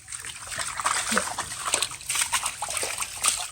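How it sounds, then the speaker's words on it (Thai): Small fish are rinsed and shaken in water in a container, giving irregular splashing and sloshing bursts at close range, moderately loud, with a soft voice faintly underneath. "เอามาเขย่าน้ำจักสามสี่น้ำเลยจ้ะ"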